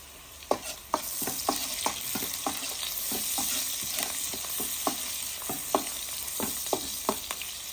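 Fish frying in a pan with steady oil sizzle, punctuated by regular sharp scrapes and clacks of a spatula turning and stirring, close up, with no talking.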